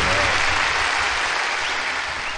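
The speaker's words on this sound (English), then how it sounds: "Can we get Big Dusty a round of applause on that one?" Steady applause from a crowd, a dense even patter of clapping that holds for a couple of seconds.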